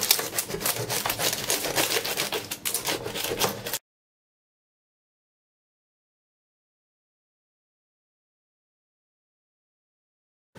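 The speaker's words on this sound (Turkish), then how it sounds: "Böreği keseceğim." A knife cuts through crispy baked homemade su böreği pastry, giving a close, continuous crunchy rasping for several seconds before stopping abruptly into silence.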